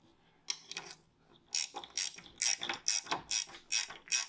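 A brake line fitting with copper washers is threaded in by hand on a big brake kit, giving close, rhythmic metallic ratcheting clicks that grow steady and repeat about twice a second.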